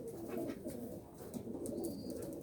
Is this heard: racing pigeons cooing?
yes